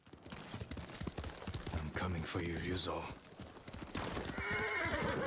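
Horse hooves clip-clop and a horse neighs in the video game Ghost of Tsushima, steady hoofbeats running through with a clear whinny midway, set against busy game sound and someone talking.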